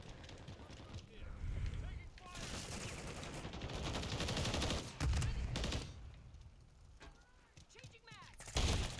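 Dense gunfire rattles in the video game Call of Duty, sustained bursts and volleys with loud booms, fairly close, with a voice speaking over the battle noise.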